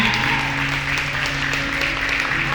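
A church congregation applauds its pastors in a sustained wash of clapping that stays at a steady level throughout, over a faint low hum of the room.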